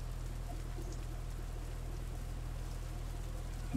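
Steady rain in a fishing video game set on the Barents Sea, a constant even patter with a low droning hum underneath and no talk.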